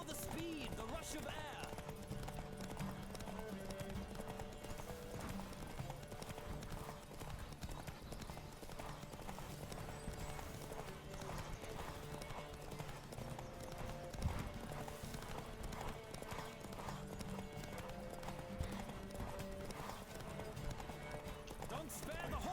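Horse hooves clip-clop at a steady galloping rhythm in The Witcher 3, loud and continuous over a game music score, with occasional neighs and a voice speaking over the ride.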